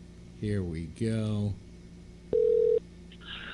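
Several DTMF tones keyed on a telephone to place a long-distance call to the other coast, one steady beep standing out after bursts of a nearby voice, with faint room hum throughout.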